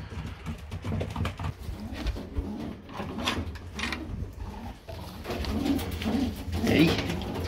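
Pigeons in a loft with their young chicks give soft, low, repeated coos close by, along with rustling and light knocks, while someone talks over them.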